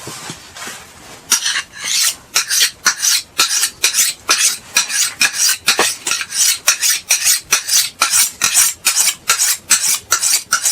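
A Yakut knife blade is stroked over a medium whetstone in a fast, even rhythm of loud, rasping scrapes, close up and with no voices.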